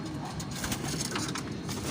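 Racing pigeons kept in a loft coo softly and repeatedly at close range, low murmuring calls layered over light background noise.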